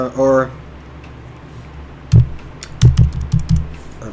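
Keystrokes on a computer keyboard typing a command in an Ubuntu 16.04 Linux terminal: a few sharp, close clicks in a short uneven cluster after a brief voiced sound and a quiet pause.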